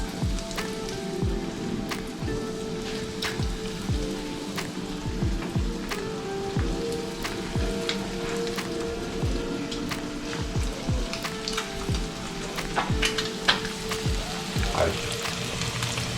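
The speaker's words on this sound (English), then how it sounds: "You hear that sizzle?" Steady crackling sizzle of Spanish mackerel frying in hot oil, dense popping and spattering throughout, close and continuous with no talking.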